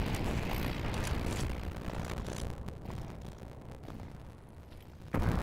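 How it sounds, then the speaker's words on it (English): Small fiery explosions in the video game Counter-Strike 2 rumble as a dense, steady burst-filled roar throughout, easing slightly toward the end before a fresh loud blast near the close, with no talk. "It also seems like a small explosion has gone on."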